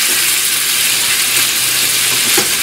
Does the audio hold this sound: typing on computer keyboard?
no